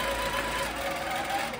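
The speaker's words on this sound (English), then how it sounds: "Grab my bobbin thread, tell it to resume, and it's going to quilt this last row for us." Handi Quilter longarm quilting machine stitching a fleece quilt, a steady mechanical motor drone with an even running hum, close and continuous throughout.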